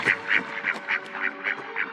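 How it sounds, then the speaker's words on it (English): A swan's loud cry as a storytelling sound effect: a rapid string of about eight honking, nasal calls in a steady rhythm, close and alone. "The swan made a loud cry."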